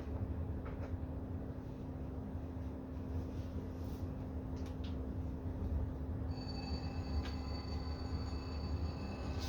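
An Athearn Genesis GE ES44AC model locomotive pair in Chessie System livery, with TSU2 sound decoders, gives off a steady diesel engine rumble with a constant hum and brief hiss-like bursts, and a higher whine joins partway through.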